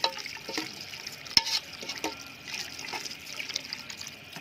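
Water is poured into a pot of Thai field rat curry, splashing and trickling close up with a few sharp clinks of the pot over a few seconds.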